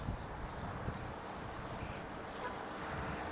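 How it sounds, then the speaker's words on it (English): Steady wind blowing outdoors on a shady morning at a garden center, a constant soft broadband rush with no gusts standing out, close to the microphone. "We've got wind, so it's not too intense"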